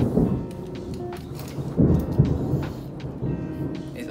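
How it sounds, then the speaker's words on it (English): Rain falling outdoors during a thunderstorm, a continuous soft patter with a few louder low rumbles and knocks scattered through it, and no talking. "It always happens when I want to shoot video. Yeah, the rain, I mean."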